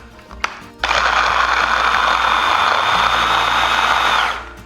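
An electric blender whirs at high speed through a smoked mackerel and egg mixture with lemon juice, starting abruptly after a small knock, holding a loud steady roar, then winding down.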